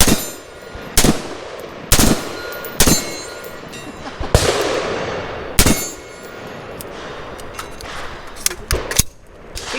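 A PSA JAKL rifle with a brace fires a rapid series of loud, sharp shots in uneven bursts, with ringing metallic echoes between reports, suggesting bump fire at an outdoor range.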